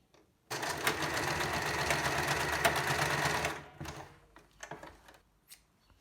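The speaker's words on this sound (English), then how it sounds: "right on the edge and sewing that into place." A sewing machine stitches a fabric face mask, running steadily and loudly for about three seconds before stopping, followed by a few quieter clicks and handling sounds.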